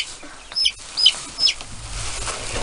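Chickens cluck a few times in short, separate bursts nearby, with a faint background hum and no talking.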